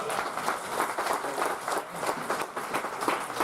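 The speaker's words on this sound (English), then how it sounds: "Let's give them a great round of applause." Crowd at a Tier 1 lacrosse home opener applauding the visiting team, a dense continuous clapping from many spectators in an arena, steady and moderately loud without speech.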